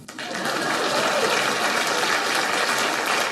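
A political rally crowd claps steadily, a dense, continuous wash of applause that holds loud and even throughout, with no clear speech above it.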